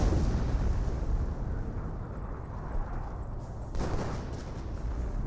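Artillery barrage explosions in the Company of Heroes video game form a constant rumbling wash of booms and distant blasts, with one sharper burst standing out midway and no talking.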